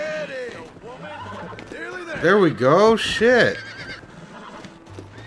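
A video game horse whinnies loudly several times, its rising and falling neighs stacked close together, with hooves clip-clopping around them and a man swearing over the top.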